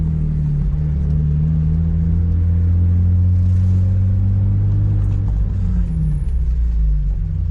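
A loud BMW E30 Cabriolet engine, an M50B25, rumbles and revs, its deep drone rising and falling in pitch, close by and continuous.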